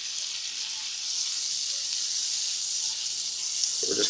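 Butter and garlic sizzling in a pan as they are stirred while making shrimp scampi, a steady close hiss that stays even throughout with a faint scrape near the end.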